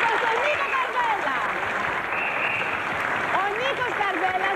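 A live concert crowd applauds a Greek singer at a 1996 show, steady clapping and cheering running underneath raised voices that talk and call out over it.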